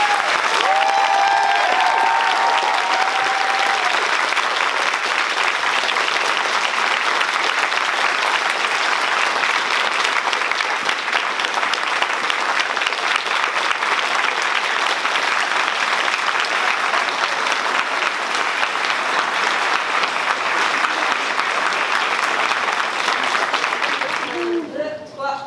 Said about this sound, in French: Un tonnerre d'applaudissements pour l'équipe de Dark Stories.